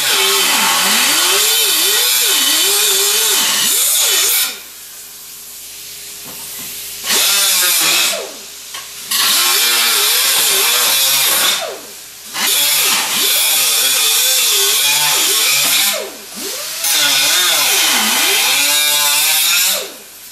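A power tool cuts through the inner door panels of a 1998 Dodge Dakota, whining loudly in long bursts separated by brief pauses, close and with no talk.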